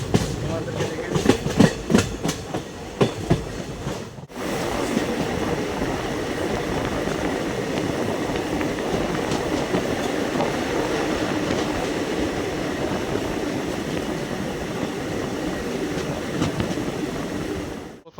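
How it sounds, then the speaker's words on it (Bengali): An Alipurduar Junction to Bamanhat passenger train rolls along the rails on its 71 km run, with a voice talking over a rhythmic rumble for the first few seconds before a steady, loud, continuous roar of wheels and carriage takes over. "তো আমাদের ট্রেনটি রওনা দিয়ে দিয়েছে"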